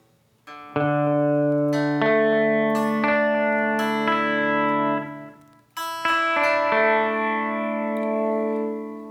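Guitar strums ring out through a Strymon Timeline delay pedal set 100% wet, each chord blooming into sustained, echoing layers that overlap and slowly decay.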